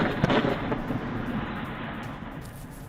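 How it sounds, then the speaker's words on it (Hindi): Gunfire at the Pakistan border in the Bajaur area, heard as a dull, continuous rumble of distant shots with one sharper crack near the start. "ये देखिए बाजौर इलाके में फायरिंग से हड़कंप।"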